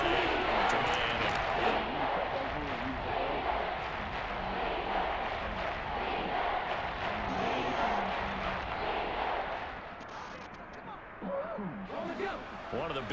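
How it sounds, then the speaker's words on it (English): Stadium crowd noise in the Madden NFL 23 football video game during a playoff matchup in Miami, a steady loud roar of cheering that swells toward a big third down, with a commentator talking over it. "The crowd getting into it as we come up on a big 3rd down."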